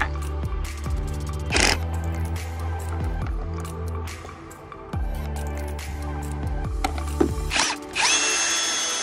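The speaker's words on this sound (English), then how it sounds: "I'm gonna drill three quick pilot holes and be in and out." A power drill bores pilot holes while a retractable hose reel is mounted, with several loud whirring bursts that rise and stop and short pauses between them, followed by a brief higher whine at the end.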